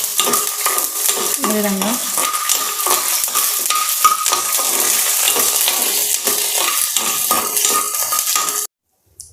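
Urad dal and chana dal fry in a pan on medium flame, a loud, steady close sizzle with repeated scraping and clinking of a spoon as they are stirred, briefly spoken over before a sudden cut to silence.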